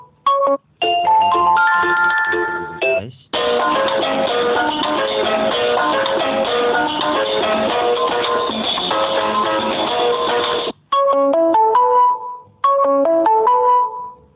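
Ringtones play one after another from an Infinix smartphone's built-in speaker, bright chiming melodic tones with short silent gaps as one tune switches to the next, loud and close.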